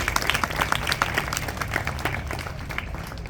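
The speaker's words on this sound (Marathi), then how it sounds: "पहिल्यांदा आपण टाळ्या वाजवून त्यांचं कौतुक करूया" An audience claps for an award-winning children's author at a literary talk event, a steady close round of applause with sharp individual claps standing out.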